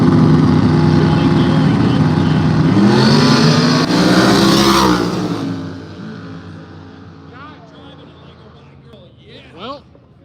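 Loud roaring drag-race car engine at a no-prep racing event in the woods, revving and accelerating before fading into the distance, leaving a quieter background with brief announcer-like voices and crowd noise.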